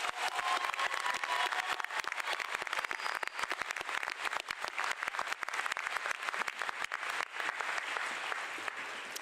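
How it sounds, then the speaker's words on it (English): Sustained, dense applause from a commencement audience at the MIAD 2026 ceremony, honoring student speakers, steady and loud throughout with crisp individual claps. "can we have another round of applause for our 2026 MIAD student commencement speakers?"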